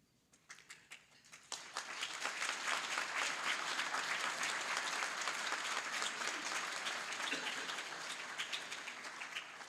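Applause at a broadcasters' hall of fame awards ceremony, starting with a few scattered claps and swelling within two seconds into steady, full crowd clapping that holds to the end.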